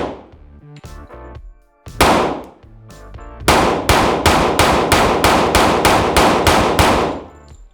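Glock 20 pistol fired in a rapid string of loud, sharp reports, a few spaced shots followed by a fast volley of about ten, each ringing with metallic clang and echo.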